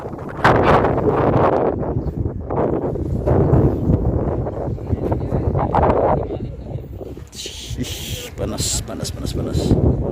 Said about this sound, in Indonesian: Angin muter.